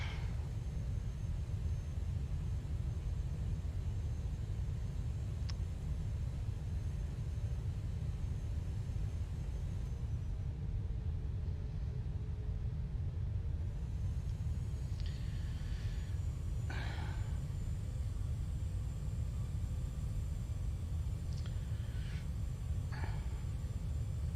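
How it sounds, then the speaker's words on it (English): An airliner's reverse thrust on landing in Microsoft Flight Simulator 2020, a steady, loud low roar and rumble that holds throughout, with a few brief higher whooshes near the end. "Reverse thrust."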